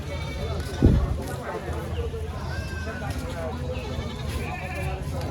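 Goats bleat in a busy, noisy livestock market crowd in Rustampur, Rajshahi, with a sharp thump near the start and people talking throughout.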